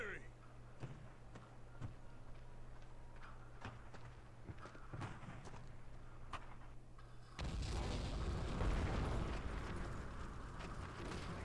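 Artillery in Red Dead Revolver: scattered single booms and mechanical clanks over a low hum, then a sudden loud, rumbling burst of fire partway through. A voice speaks briefly over the quieter opening.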